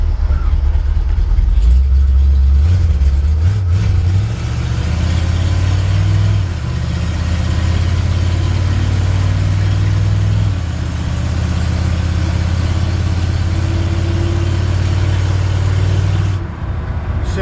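Engine of a 1964 Chevrolet C-10 pickup with a floor-mounted shifter, driven while still cold, a loud steady low rumble that rises and drops with gear changes, close and continuous throughout.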